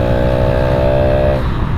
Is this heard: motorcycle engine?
yes